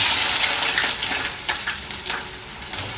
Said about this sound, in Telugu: బ్రౌన్ ఆనియన్స్ కోసం ఫ్రై చేసుకుందాము.